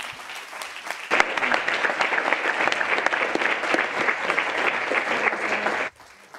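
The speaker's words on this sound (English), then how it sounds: "one last round of applause for our interns" An audience at a summer college intern presentation breaks into sustained applause for the interns, dense steady clapping that swells at once and stops abruptly near the end.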